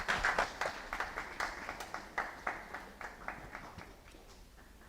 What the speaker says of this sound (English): Can you please clap for them?